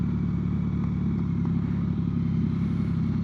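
A motorcycle engine runs steadily and close in a public street, a sustained low engine drone with no distinct revving bursts standing out.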